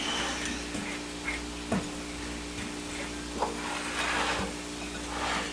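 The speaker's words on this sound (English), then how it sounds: "Our maple links are starting to brown over here in the skillet." Maple sausage links sizzle and fry in a skillet, a steady soft crackle with occasional light clinks and scrapes, fairly quiet and without talk.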